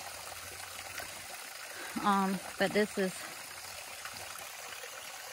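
Small waterfall on the Suwannee River along the Florida Trail, running low, gives a steady broadband rush throughout, with a person talking briefly in the middle.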